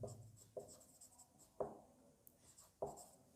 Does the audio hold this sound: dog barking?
no